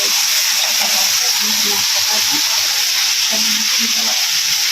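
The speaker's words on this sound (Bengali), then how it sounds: "এই যে মাছটা এখন ভাজা চলছে।" Fish frying in hot oil gives a loud, continuous broadband sizzle that holds steady throughout, with faint low murmurs underneath.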